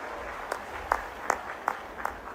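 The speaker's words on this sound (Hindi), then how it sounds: "खुलना चाहिए तो जोरदार ताली बजाओ" A rally crowd for CM Mohan in Bhind claps in a loose, pulsing rhythm, distant and modest in volume over a constant outdoor hum.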